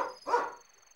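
A dog in the video game Boku no Natsuyasumi 2 gives two short barks, the second a bit louder, then falls quiet over a faint steady electronic tone.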